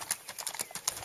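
Icelandic horse hooves clip-clopping on hard ground, a quick, even run of close, crisp footfalls lasting about a second with no talking.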